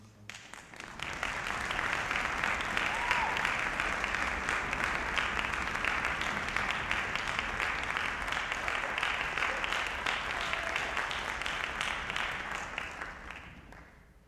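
Sustained audience applause in a hall after a university orchestra concerto performance, a dense wash of clapping that swells in, holds steady for about ten seconds, then fades out, with no voices over it.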